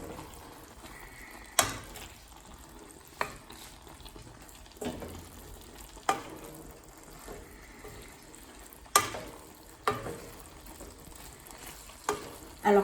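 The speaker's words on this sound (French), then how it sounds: "Donc là je vais bien mélanger" Scrambled tofu stirred in a frying pan, a soft sizzle punctuated by regular sharp scrapes and knocks of the utensil against the pan, recurring every second or so.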